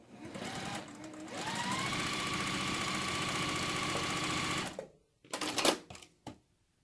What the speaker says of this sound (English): So I'm going to go ahead and line up and go ahead and stitch a 1/4 inch seam.